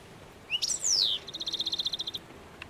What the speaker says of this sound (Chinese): 只能听鸟叫声